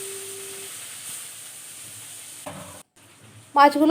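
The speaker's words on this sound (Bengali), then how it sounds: "চিংড়ি মাছগুলোকে খুব একটা বেশি ভাজবো না, একটু হালকা করে ভেজে তুলে নেবো।" Prawns frying lightly in oil in a wok, a steady soft sizzle with a few stirring scrapes, a short drop near the end, then a louder burst of clattering and sizzling.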